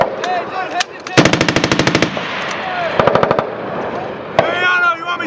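Machine gun bursts at a Marine Corps range in Twentynine Palms: a rapid close string of loud shots, a pause, then a shorter burst and a single shot, with shouting voices between bursts.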